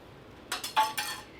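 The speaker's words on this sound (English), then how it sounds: "I just put a lid on it" A lid going onto a glass jar of homemade olive leaf extract steeped in vodka: four quick close clinks and taps over about half a second, crisp against a quiet background.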